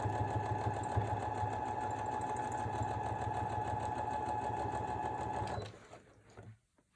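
Sewing machine stitching through a bulky puff quilt held with pins, a fast steady whirring hum running close and continuous for several seconds before slowing and stopping, followed by a few soft handling knocks.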